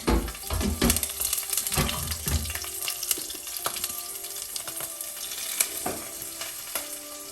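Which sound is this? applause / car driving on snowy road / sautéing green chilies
sautéing green chilies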